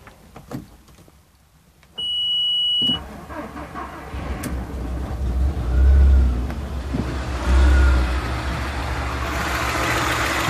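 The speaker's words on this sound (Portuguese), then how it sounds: "Vou ligar o motor aqui agora para vocês verem o funcionamento" A rough-running Audi A3 1.8 20v engine is started and settles into an uneven idle, close by, with a persistent low rumble and periodic shaking surges; a brief electronic beep sounds just before it fires.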